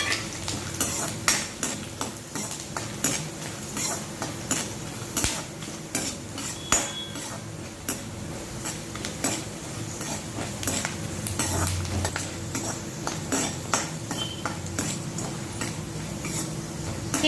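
Whole garam masala spices and garlic sauté in hot oil while a spoon scrapes and clinks repeatedly against the pan. The stirring sounds are close and uneven over a low continuous sizzle.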